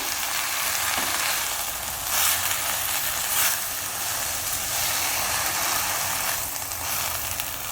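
Fenugreek leaves for methi bhaji are stir-fried in a pan with a dense, steady, close sizzle that swells now and then as the leaves are tossed. No one talks.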